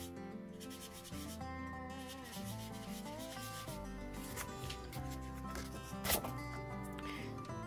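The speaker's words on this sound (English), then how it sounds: "I'm just taking my chalk right to the cotton ball this time" A cotton ball rubs pastel chalk onto embossed vellum in a continuous soft scratchy rubbing, close up over faint background music.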